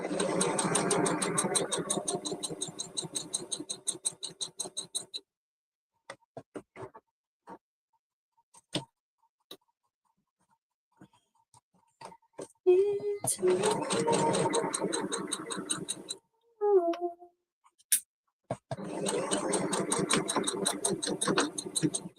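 A sewing machine stitches a padded fabric Christmas tree in short bursts of rapid close chatter, separated by quiet gaps with clicks and handling noises, with brief speech in between.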